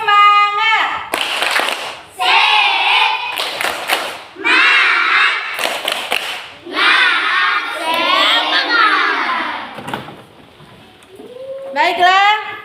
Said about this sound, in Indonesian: Semua berdiri, tepuk semangat dulu.